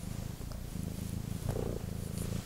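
A cat purrs right into a microphone, a steady close rumbling purr with a rhythmic pulse that continues unbroken throughout, loud and alone with no talk over it.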